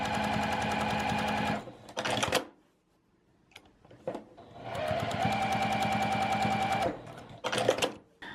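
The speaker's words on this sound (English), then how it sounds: "now I'm just going to run some stitches down this one as well" Sewing machine running in two bursts of rapid, steady mechanical stitching through quilt strips for a quilt-as-you-go mug rug, separated by a quiet pause with brief handling clicks, fairly close and loud.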